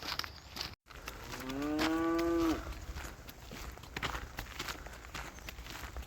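Cattle grazing on open high summer pastures give one long, loud moo over steady outdoor noise, with hooves and footsteps shuffling through the clip.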